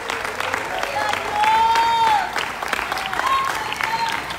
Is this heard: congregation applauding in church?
yes